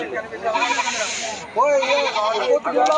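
Young goats bleat repeatedly in quavering, high calls over steady crowd chatter at a rainy-day goat market in Kaitla, loud and near.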